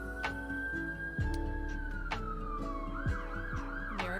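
An American emergency vehicle siren wails steadily, its pitch slowly falling before shifting into a rapid warbling yelp, loud against a dense background of city hum and scattered ticking clicks.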